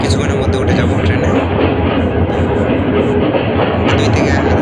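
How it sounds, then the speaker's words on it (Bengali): The Parabat Express rumbles steadily as it arrives at Noapara station in Habiganj, a dense continuous clatter of the approaching train with voices mixed in. "চলে আসছে আমার ট্রেন"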